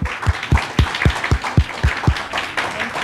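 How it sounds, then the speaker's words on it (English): Audience clapping at a summer school lecture, a burst of hand claps in a rough rhythm lasting about three seconds, fairly close and moderately loud. "Big applause, please."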